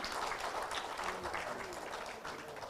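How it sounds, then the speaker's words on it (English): Audience applause for Dr. Alex Adis at a session, a dense, continuous clatter of many hands clapping, moderately loud and sustained throughout with no pause. "May we have a huge round of applause for Dr."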